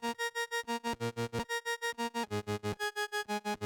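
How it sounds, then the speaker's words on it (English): Synth track processed with Sound Toys Tremolator and Pan Man tremolo, chopped into rapid, even pulses about five per second while bright stepping notes shift pitch, loud and alone. "we've got this Trem Pan, which is Tremolator and Pan Man, both from Sound Toys."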